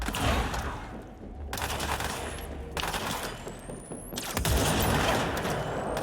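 Sniper rifle fire in the video game Control: several sharp, loud shots, each followed by a decaying boom and ringing tail, spaced a second or so apart.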